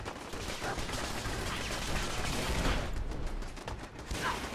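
Automated turret gunfire in Fallout 4, a dense, steady stream of rapid shots and bursts that carries on without a break for several seconds, loud and close, with no voices over it.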